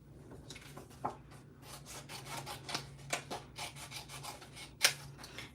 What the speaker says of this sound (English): now we're gonna go ahead and fussy cut our mitten out